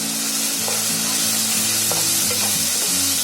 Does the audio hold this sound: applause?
no